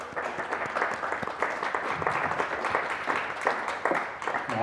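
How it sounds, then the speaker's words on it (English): An audience claps in a sustained round of applause at an evening ecommerce interview event, steady dense clapping throughout at moderate loudness with no speech over it. "So round of applause for them"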